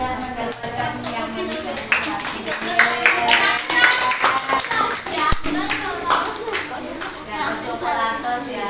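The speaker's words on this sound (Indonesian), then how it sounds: "tepuk tangan sekali lagi untuk anak ini" Classroom applause for a student at a school coaching session, with many hands clapping in a steady, lively patter that lasts throughout, while people talk and a voice comes through over it.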